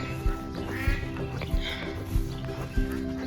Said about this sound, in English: The ducks are very happy with their puddles.